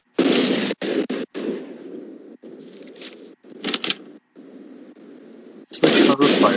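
Gunfire rattles through a Fortnite battle: several sharp bursts of shots, then a stretch of quieter continuous firing, and a loud close volley at the end, with no talk.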